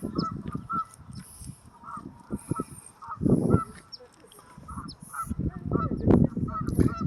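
A flock of birds honks and calls repeatedly outdoors, goose-like cries rising in bursts over steady background noise, loudest in the middle and toward the end.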